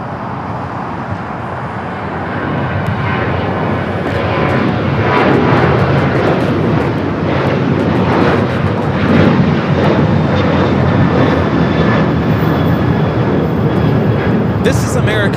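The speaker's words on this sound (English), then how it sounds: "This is American Airlines 2656 taking off to Los Cabos on the 737-800." An American Airlines Boeing 737-800 takes off from LAX, its engine roar swelling after a couple of seconds and holding loud and steady to the end, with voices talking underneath.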